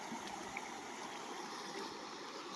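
A river in the Konkan countryside flows continuously, a faint, even watery hiss and trickle with no distinct splashes, steady from start to finish and heard alone.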